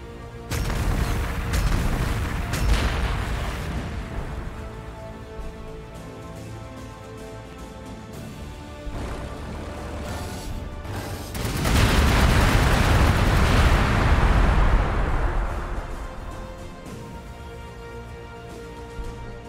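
Artillery in the strategy game Warhammer 40k: Gladius shells a target with heavy booming blasts, a rumbling opening barrage followed by a second louder, sustained wave of explosions mid-clip, with no talk.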